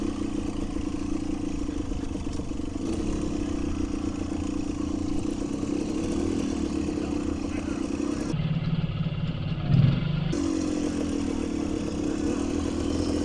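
Motorcycles, including a vintage MT 250 two-stroke and a KLX 300, ride around together, giving a continuous mid-pitched engine drone with slight shifts in tone and a brief louder burst near the end.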